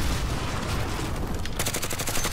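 Gunfire in Call of Duty Warzone: a loud, dense wash of shooting that turns into a rapid, evenly spaced automatic burst partway through, with no voices.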